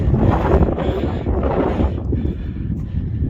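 Strong, gusty wind buffeting the microphone on an exposed hilltop walk near Thorverton, Devon, a loud, continuous low roar that swells and dips in gusts throughout, with no voices.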